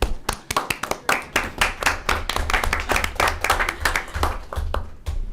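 Applause fills a school district board of education meeting, many hands clapping densely and steadily throughout, fairly close and loud, with no voices over it.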